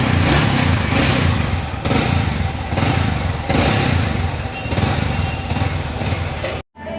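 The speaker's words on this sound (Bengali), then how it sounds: "ইঞ্জিন সাউন্ডটা কেমন আছে?" A Yamaha R15 V3 motorcycle with an engine sound problem runs close up, its engine note loud and steady with rhythmic surges and a faint mechanical clatter, then cuts off abruptly near the end.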